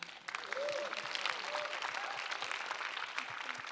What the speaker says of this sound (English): Big applause to Hidde.